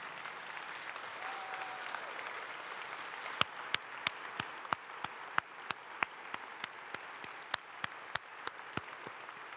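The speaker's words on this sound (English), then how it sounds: "Join me in giving Martin a round of applause" Convention audience applauding in a large hall in St. Louis, a steady mid-level wash of clapping throughout, with sharp louder claps standing out near the front as the ovation carries on.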